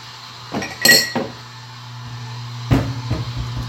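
Glasses clink together as they are handled in a kitchen, with a quick cluster of bright, close chinks followed by a later knock of glass set down.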